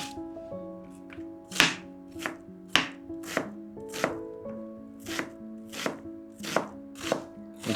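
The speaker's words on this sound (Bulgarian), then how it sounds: "Докато режа лука" A knife chops red onion on a cutting board in a steady series of about a dozen crisp, close thunks, evenly spaced, with a quiet tonal background underneath and no talking.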